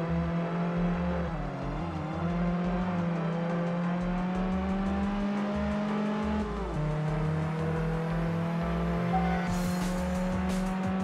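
A racing car in Test Drive Unlimited on PS2 holds a loud, steady engine drone, its pitch sliding down and climbing again through gear changes, with faint tire squeal near the end and no voices.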